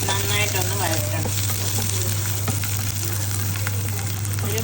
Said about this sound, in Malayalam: ബാക്കി ഇഞ്ചി, അരിഞ്ഞ പച്ചമുളക്, ഇതും കൂടി ഇട്ട് നന്നായിട്ടൊന്ന് വഴറ്റണം.